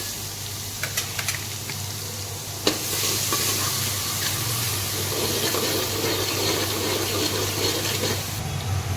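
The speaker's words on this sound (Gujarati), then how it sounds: "આદુ લસણની પેસ્ટ નાખી દેશું પછી અડધો મિનિટ સુધી આપણે એને સાતળવા દેશું" Asafoetida and ginger-garlic paste sautéing in a pan, a steady close sizzle with occasional stirring clinks and a sharp scrape, over a constant low hum.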